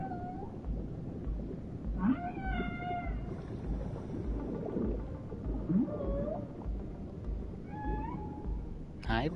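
Dolphins in Dave the Diver give a series of squeaky, chirping whistle calls in several bursts, spaced over a steady underwater rumble with a looping background score.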